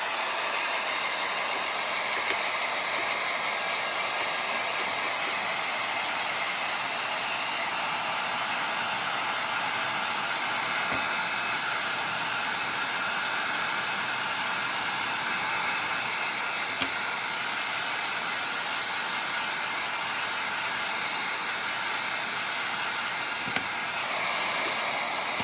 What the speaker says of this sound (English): We'll heat gun this a little bit.